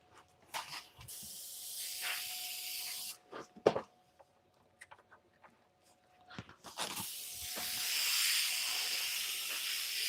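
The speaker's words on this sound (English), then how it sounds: "I got to clean out the airbrush again." Short hissing bursts from an airbrush come in quick spurts, then a longer sustained spray builds near the end, all close and fairly loud, with brief quiet gaps and clicks between.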